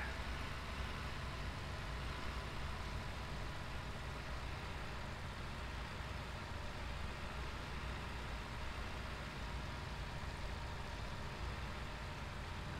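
A Massey Ferguson tractor engine in Farming Simulator 17, tedding a mown field, giving a steady, faint, even drone with a low rumble that never changes throughout, with no talk.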